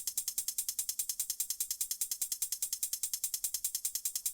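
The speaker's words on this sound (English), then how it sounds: "another thing that I've added just to, again, increase the interest a little bit is a hat sound like this" A rapid, evenly spaced loop of crisp, bright hi-hat hits from a psytrance drum production, with the same hat pitched differently on some hits. The ticks repeat steadily and fairly quietly, with no other instruments.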